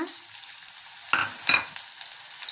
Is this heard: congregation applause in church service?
no